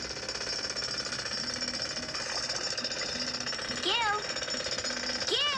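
A cartoon jackhammer rattles continuously in a children's animated show about building, steady and fairly loud, while a voice calls out over it near the end.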